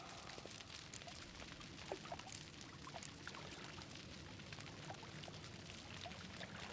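Water drains from tank number four in a bathhouse: a faint, steady, rushing pour that holds unbroken from start to finish.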